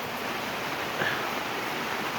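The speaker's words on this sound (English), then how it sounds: "it's absolutely pouring down now" Heavy rain pours steadily onto a camping awning, a dense, even hiss of drumming water with no breaks, heard from underneath at moderate loudness.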